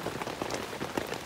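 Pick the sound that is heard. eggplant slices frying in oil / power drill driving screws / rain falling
rain falling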